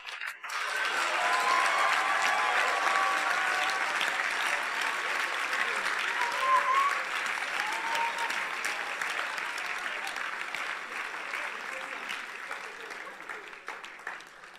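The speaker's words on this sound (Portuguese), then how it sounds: "Vocês não estão aplaudindo direito." A church congregation in Orlando breaks into sustained applause, swelling quickly then continuing loud and steady before gradually thinning out over about a dozen seconds.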